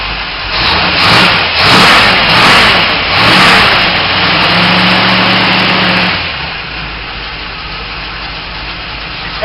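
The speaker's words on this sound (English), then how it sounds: "I'm going to start it up for y'all so y'all can hear it run." An old car's engine starts and revs hard, loud and close, with several rising surges in the first six seconds before dropping back to a rough, steady idle.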